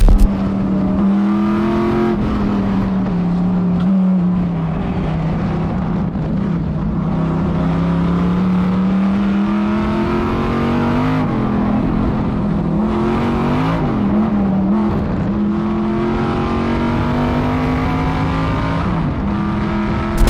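An AC Cobra's carburetted engine runs close by and loud, holding a deep, steady burble with small rises and dips in revs throughout.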